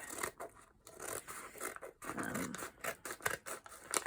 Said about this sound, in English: So I'm just gonna cut all the edges off.